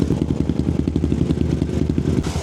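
A VMAX V25 motorcycle's exhaust rumbles loud and close, a throbbing engine note that holds steady through the moment.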